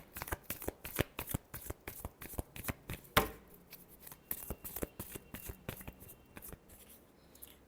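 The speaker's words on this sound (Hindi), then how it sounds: "Last shuffle." Tarot cards are shuffled by hand in a quick, rhythmic run of crisp riffling slaps, a sharper snap midway, then softer, looser shuffling, close and clear with no talking.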